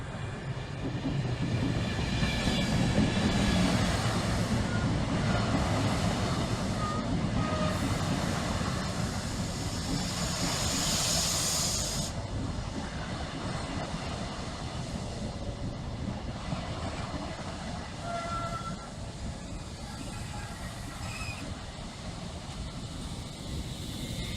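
A train led by a British Rail Class 82 passes through Stowmarket station with a loud, steady broadband roar and rumble. The sound swells mid-way, then eases slightly, with faint high squeals on top and no talking.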